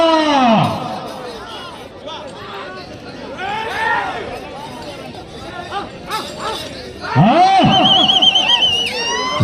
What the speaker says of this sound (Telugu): ప్రేక్షకుల నుండి ఈలలు కేకలు రావాలా